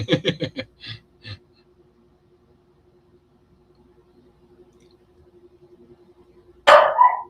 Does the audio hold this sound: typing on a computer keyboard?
no